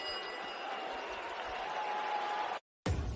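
A boisterous home Latvian crowd at Arena Riga applauds and roars during the 2019 Mairis Briedis vs Krzysztof Glowacki boxing fight. The noise is a continuous, thick wash that cuts out abruptly and then returns.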